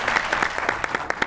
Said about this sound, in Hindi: बहुत सी ताली होनी चाहिए डॉक्टर साहब के लिए